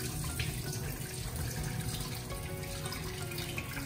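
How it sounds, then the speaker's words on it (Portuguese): Tap water runs steadily into a bowl of cut potatoes being washed, a continuous close splashing and rushing sound with no speech. "enche de novo e vai lavando a batata até ela ficar com a água transparente"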